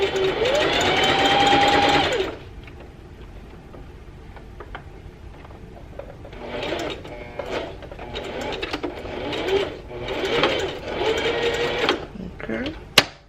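A sewing machine runs in a steady whirring burst to open, then in several shorter back-and-forth bursts as it reverse stitches to lock a lettuce hem on stretchy fabric. A voice talks between the bursts.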